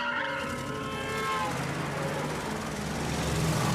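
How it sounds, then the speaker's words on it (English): A car speeds up on a road as the driver suddenly floors the accelerator, its engine note climbing steadily and loudly under broad road and wind noise. "Rant suddenly stepped on the accelerator to speed up"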